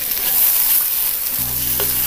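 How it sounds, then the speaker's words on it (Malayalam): Capsicum masala curry with freshly added garam masala sizzles steadily in a hot pan as it is stirred, a continuous close frying hiss with a low hum near the end. "നന്നായിട്ട് ഇളക്കി കൊടുക്കാം."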